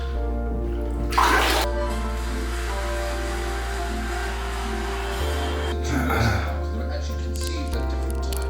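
Water pours steadily into a bathtub being filled for a bath, a continuous rushing under a low electrical drone, with a couple of brief louder splashes or bumps.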